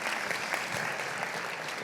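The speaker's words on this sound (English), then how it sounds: "give a round of applause" Audience at a conference breaks into steady applause, a dense even patter of many hands clapping at moderate loudness throughout the short stretch.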